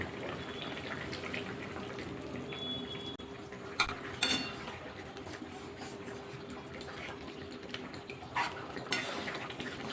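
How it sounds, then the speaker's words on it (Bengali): Cornflour being stirred with water in a small bowl, a spoon clinking and scraping softly against the bowl with a few brighter metallic taps over a quiet kitchen background. "এবার একটা বাটিতে নিয়ে নিয়েছি দু চামচ কর্নফ্লাওয়ার এবার এটা জল দিয়ে গুলে গ্রেভির মধ্যে দিয়ে দেবো"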